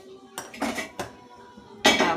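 Metal clanks and clatters as a flat iron tawa is set down on a lit gas stove, a few sharp knocks followed by a louder ringing bang near the end, close by with no talk.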